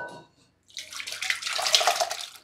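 Boiled, softened kabuli chickpeas poured out together with their cooking water after a pressure-cooker boil, a steady close splashing gush lasting a couple of seconds that follows a brief clatter.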